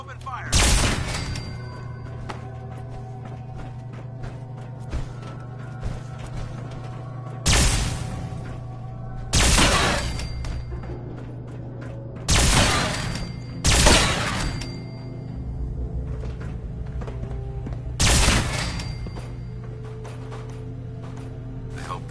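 Gunfire in Fallout 4 arrives as about six sharp, loud bursts spread over the stretch, separated by quieter gaps filled with a steady low hum.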